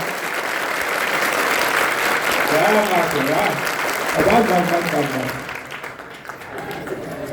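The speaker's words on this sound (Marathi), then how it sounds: "पुरुष मंडळी टाळी" Men in a kirtan audience clap together in a loud, dense burst that holds steady for several seconds, with voices calling out over it, before the clapping drops away and the sound thins out.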